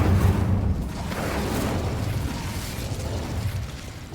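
Incendio fire spell cast in Hogwarts Legacy, a loud roaring burst that settles into a sustained, rumbling whoosh of flame lasting the whole moment.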